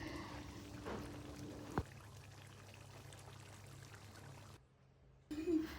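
Water pours into a pot of cooking chicken curry, a soft, faint stream at first that fades into quiet background, with a brief silence and a short bump near the end.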